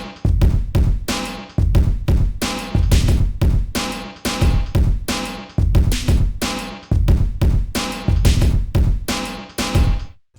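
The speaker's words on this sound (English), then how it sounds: "we did another drum pattern" A punchy hip-hop drum loop, heavy kicks and crisp hits repeating in a steady, loud, driving pattern with no voices.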